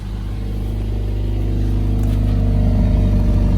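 Engine of a Mercedes GLA45S AMG revving loudly with Sport Plus on and the exhaust valves open, a steady, rising deep rumble up close with no talking.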